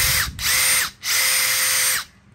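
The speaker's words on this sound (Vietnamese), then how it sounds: "Đây là cây bắn vít 40V." A 40V cordless screwdriver, model GVT01, whirs at high speed in two loud bursts with a short gap between them, then winds down and stops, heard close up with no talking.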